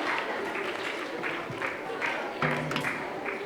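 Applause from an audience at a children's council presentation in Catalonia, a steady dense patter of many hands clapping, moderately loud and continuous throughout, with a brief louder burst partway through.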